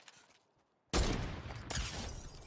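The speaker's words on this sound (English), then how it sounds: "There goes the cannon." A cannon in Fortnite fires with a sudden loud blast, then a sustained roaring rumble and a second burst of noise, heard alone with no talking.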